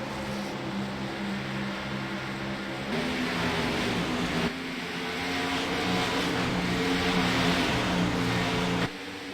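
Race car engines roaring in a sim racing league playoff game at Dover International Speedway, steady layered engine drones with pitch shifts and sudden cuts, fairly quiet overall with no voices.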